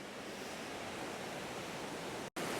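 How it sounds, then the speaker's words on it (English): Rushing water at the Gordale Scar waterfall roars as a loud, dense, unbroken wash of noise close to the microphone, cut off by one brief dropout near the end. "I hope the microphone is not going to be blasted out by the sound of the rushing water here"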